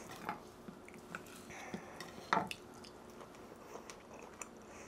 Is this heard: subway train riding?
no